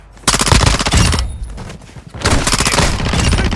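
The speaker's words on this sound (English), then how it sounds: "Taking enemy fire!" Enemy gunfire in Call of Duty Warzone DMZ rattles out in two loud, sustained automatic bursts, close and dominant, with a short gap between them.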